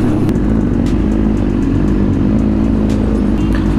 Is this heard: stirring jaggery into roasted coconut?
no